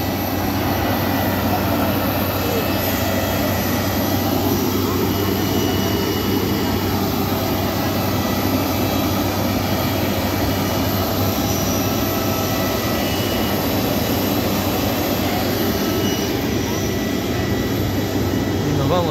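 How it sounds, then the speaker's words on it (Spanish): A helicopter flies over the city of Cusco on a sunny day, giving a loud, steady engine and rotor roar that stays constant throughout, with voices faintly underneath. "Hay un helicóptero."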